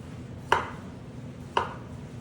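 A kitchen knife cuts through eggplant into rounds for ratatouille, giving two crisp, close thuds on a cutting board about a second apart against a quiet room.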